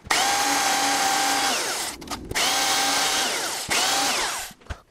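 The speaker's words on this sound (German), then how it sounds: "Jetzt hole ich noch die Bandschleifmaschine und schleife die restlichen Millimeter" A belt sander whines loudly in repeated bursts, its pitch dropping as it bites into the wood of an 1890 entrance gate, with brief pauses between passes.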